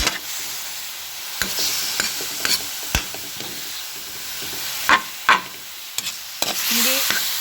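Ground meat fries in a little oil, a continuous crackling sizzle with repeated spoon scrapes and taps against the pan at irregular intervals, close up.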